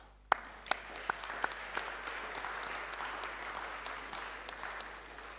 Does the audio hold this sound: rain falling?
no